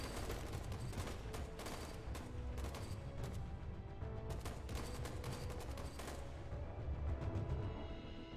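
Bursts of rapid gunfire crackle through a tense shootout in the video game Lacuna, dense loud volleys and single cracks piling over one another before thinning out near the end.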